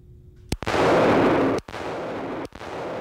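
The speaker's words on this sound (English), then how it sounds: "Because I've never shot this laser before, I'm gonna shoot at extension the first couple times." A revolver fitted with a side-mounted laser sight is fired at arm's length, three sharp, loud reports spaced about a second apart, each followed by a booming ringing tail.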